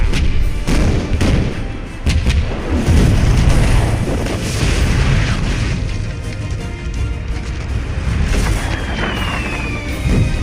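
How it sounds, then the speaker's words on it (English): A cannon artillery volley fires in the samurai-era strategy game Fall of Samurai, producing loud, dense, overlapping booms and heavy thuds that roll continuously into a sustained battle rumble. "Prepare to run out the guns. On my command, fire!"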